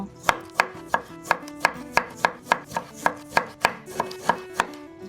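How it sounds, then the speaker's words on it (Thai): A knife chops a lime on a cutting board, about seventeen crisp, evenly spaced cuts at a steady brisk rhythm, close and clear with no voices. "หั่นมะนาว"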